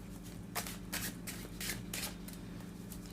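Tarot cards shuffled by hand for a pick-a-card reading, heard as several short, crisp riffling bursts in a loose rhythm, close up and alone.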